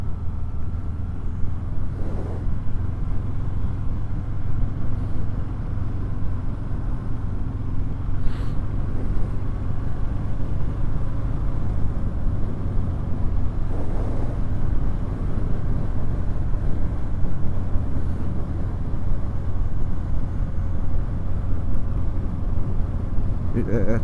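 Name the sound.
Harley Davidson Softail Fat Bob 114 Milwaukee 8 engine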